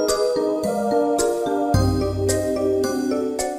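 Hall of Doors music from Rayman DS, a chiming, jingly handheld arrangement with short stepped melody notes and a bass line entering midway, heard alone and fairly loud throughout.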